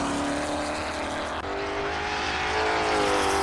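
A Ford GT40 Mark 1 race car, chassis P1075, running Group 4 spec at a festival of speed, roars steadily past close by, its loud engine note holding and swelling slightly toward the end.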